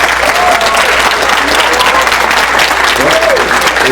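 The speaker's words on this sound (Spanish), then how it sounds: "vamos a brindar un fuerte aplauso" Loud, sustained applause rings out from an audience after a mathematics lecture, thick and continuous, with a voice briefly audible over the clapping.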